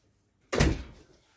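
A single door opens with a sudden, fairly close thump and rattle that fades away within about half a second, after a quiet lead-in.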